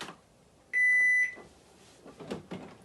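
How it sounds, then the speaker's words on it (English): A single loud, steady electronic beep lasting about half a second from a Canon MX860 printer, followed by faint mechanical whirring and clicking. "Loud beep, and printer noises."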